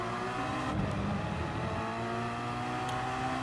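A Porsche Gr.3 race car's engine in Gran Turismo Sport at Fuji holds a steady, loud, sustained drone at high revs as it goes for an inside line, with a brief shift in pitch partway through.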